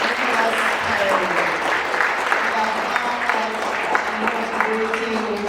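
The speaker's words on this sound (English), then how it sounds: "Let's give another warm round of applause to Ambassador Nicholas Perry" An audience gives a warm round of applause at a Jamaican Heritage Month event, a steady dense roar of clapping hands that stays full and even from start to finish.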